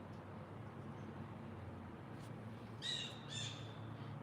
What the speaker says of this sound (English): Did you hear that little guy chirping away?